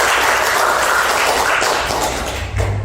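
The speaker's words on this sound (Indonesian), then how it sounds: "Beri tepuk tangan untuk Depa." Classroom applause for a student, a dense wash of clapping that fills the clip steadily at close range and tapers slightly near the end.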